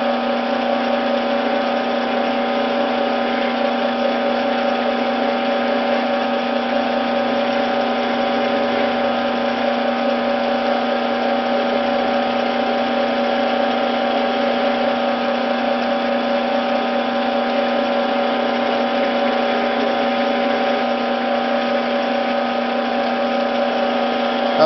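A Dream Cutter power tool runs continuously with a steady, loud, even motor whine and buzzing hum, unbroken from start to finish with no talking.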